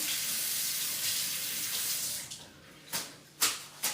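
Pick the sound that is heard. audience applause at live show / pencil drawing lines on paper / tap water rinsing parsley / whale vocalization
tap water rinsing parsley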